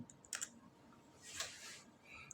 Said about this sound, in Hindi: कंट्रोल और डिलीट दबाएंगे, पासवर्ड दे देंगे, एंटर करेंगे